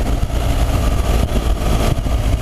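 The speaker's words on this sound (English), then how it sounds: "All these bikes, when they start up, they rumble and they just sound amazing." A BMW 1200 GS motorcycle idles with a loud, steady, close-up engine rumble that holds evenly throughout with no other sounds.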